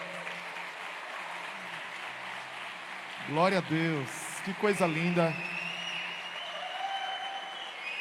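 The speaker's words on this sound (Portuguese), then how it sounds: "E eu quero pedir que a igreja aplaude as mulheres nessa noite." A church congregation applauds the women at an evening service, with a steady wash of clapping throughout and someone speaking over it midway.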